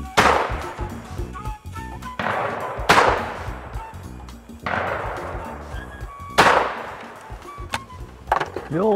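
Shotgun shots fired at clay targets ring out at intervals, several sharp reports with decaying tails and clinking between them, heard close and loud.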